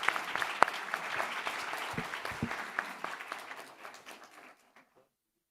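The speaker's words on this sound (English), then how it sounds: "Let's give a big round of applause for the speakers" An audience at a business congress opening session claps for the panel speakers, a crisp burst that thins out and fades to silence by the end.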